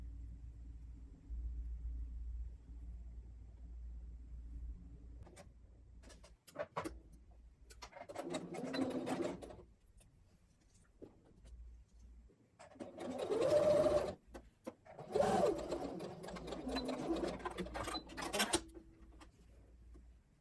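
A sewing machine stitches a dress seam in bursts of steady whirring, with pauses between runs and a low rumble underneath, close and fairly quiet.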